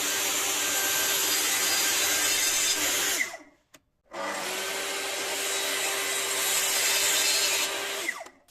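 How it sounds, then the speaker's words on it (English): Power tool cutting grooves into wooden slats clamped on a homemade jig outdoors, a loud steady whining roar in two long passes separated by a brief silence, close and without talk. "I clamped the slats on this little jig I made and cutted the grooves for the insides."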